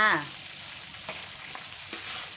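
Thin slices of salted banana crisp up in hot oil for chips, a soft continuous sizzle with faint stirring clicks and a brief tonal sound at the start, heard alone.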